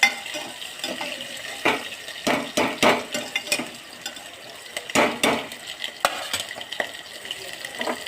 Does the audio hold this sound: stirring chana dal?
yes